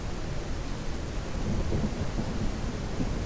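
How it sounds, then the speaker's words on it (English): A thunderstorm in the video game Ranch Simulator rumbles continuously with heavy rain and deep low thunder, loud and steady throughout with no talking. "It's a daily thunderstorm, no joke."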